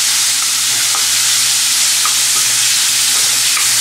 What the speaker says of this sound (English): After that we will add our crushed ginger garlic over here.